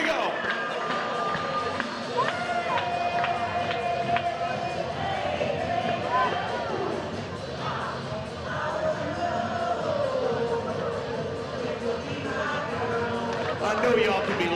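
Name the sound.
stadium crowd clapping along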